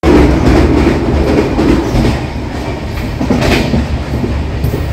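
A Vistadome tourist express train between New Jalpaiguri and Alipurduar rolls steadily on its rails, a loud, continuous rumble with faint rhythmic wheel clatter heard from inside the coach, no voices.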